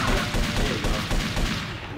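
Rapid bursts of gunfire from a Roblox game, Left 4 Survival 2, run in a dense volley throughout the short stretch, moderately loud and fading slightly toward the end.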